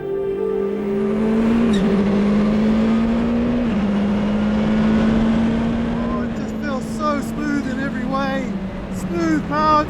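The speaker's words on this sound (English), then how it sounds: "Smooth power delivery, easy and light shifts, just a little blip of the throttle on downshift, keep the right foot pinned for upshifts" A Courage C65 LMP2 race car engine drones at a loud, steady pitch with a quick upshift dip, then a series of short, sharp throttle blips on downshifts near the end, heard close from onboard.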